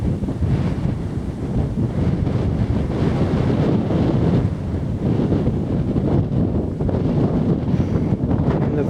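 Strong wind buffets the microphone in a steady, loud roar on a seaside coastal walk, with surf and waves mixed into the constant rushing gusts.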